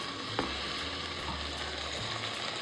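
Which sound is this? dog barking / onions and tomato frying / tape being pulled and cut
onions and tomato frying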